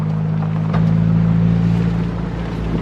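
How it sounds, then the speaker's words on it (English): Steady low engine drone from inside a Mazda Miata driving down a dirt road, with a constant hum and a slight rise in intensity partway through, plus faint rumble from the road surface. "We are now in Caden's Miata, driving down this dirt road."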